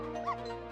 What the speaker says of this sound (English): Distracts them, gets Missile barking